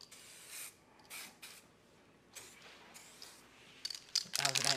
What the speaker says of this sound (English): Just give a nice little light dusting to the back, making sure that everything is spraying well.